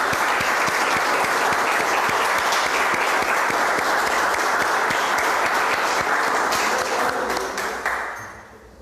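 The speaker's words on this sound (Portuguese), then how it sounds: "As palmas louvam o nome do Senhor." A church congregation at a missions service applauds to praise the Lord, a dense, loud, sustained wash of clapping that fades out near the end.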